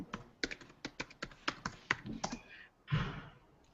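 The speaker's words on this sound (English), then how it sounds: "you can see what I'm typing" Typing on a computer keyboard, a quick run of crisp, close key clicks in an uneven rhythm followed by a heavier clunk near the end, heard alone without any voices.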